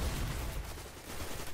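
Shotgun fire during a Destiny: Rise of Iron Crucible Supremacy match, heard as a dense, continuous burst of blasts and battle noise without speech.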